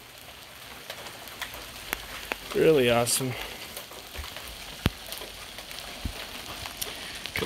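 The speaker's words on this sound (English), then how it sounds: "Really beautiful rain here." Rain falls steadily in a video game, a soft continuous patter and hiss with scattered sharper drops, while someone speaks briefly over it.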